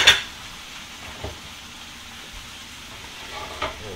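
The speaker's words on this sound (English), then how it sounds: "Stir it around a little bit, kind of let it pick up some of the little crispies off of the" Creole-style rabbit or chicken sizzles in a skillet with okra and tomatoes while it is stirred, a steady frying hiss broken by an occasional soft scrape or tap of the spoon against the pan.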